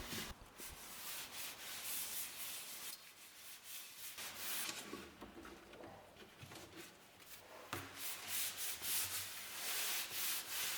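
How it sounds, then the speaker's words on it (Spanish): A varnished wooden cajón is sanded by hand, giving continuous close, scratchy rubbing strokes in an uneven back-and-forth rhythm, with no talking. "Aplico una nueva capa, secado y lijado."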